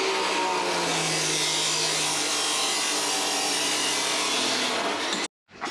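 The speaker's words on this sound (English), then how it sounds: "Alright, so I've got the up pipe in the saw," A saw cuts steadily through a custom exhaust up pipe for a twin-turbo Subaru Forester, a loud continuous rasping grind for about five seconds before stopping abruptly.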